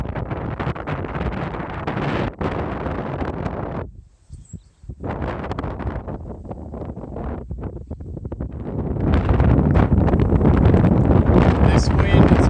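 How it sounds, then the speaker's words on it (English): Strong headwind buffets a cyclist's microphone with loud, continuous low rumbling roar, easing briefly and then building to a heavier, steady blast. "This wind is making for absolutely miserable riding conditions. This is a pure headwind."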